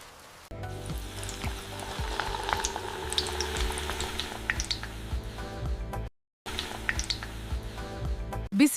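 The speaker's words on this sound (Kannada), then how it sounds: "ಬ್ರೆಡ್ ತುಂಡುಗಳನ್ನು ಹಿಟ್ಟಿನಲ್ಲಿ ಮುಳುಗಿಸಿ ಬಿಸಿ ಎಣ್ಣೆಯಲ್ಲಿ ಕರಿಯಿರಿ." Batter-dipped bread pieces deep-fry in hot oil as evening bread bajji snacks, giving a dense, steady close sizzle with scattered pops and crackles and one brief silent break, without any talk.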